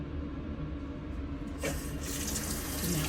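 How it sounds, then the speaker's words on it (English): Water runs and drains down a freshly unclogged sink after an auger cleaning, a continuous close rushing and gurgling that swells toward the end. "And it's draining just fine."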